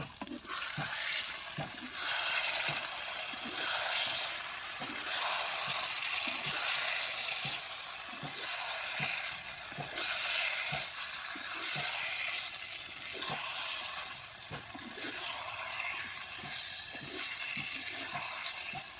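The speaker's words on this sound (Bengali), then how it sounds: "তো এবার খাসির মাংসগুলো সব দিয়ে ভালো করে কষিয়ে নিতে হবে।" Mutton stir-fried with spices in a clay pot over a wood-fired village stove, a loud steady sizzle running throughout with regular scraping stirs knocking against the pot.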